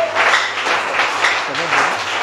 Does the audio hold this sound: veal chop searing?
no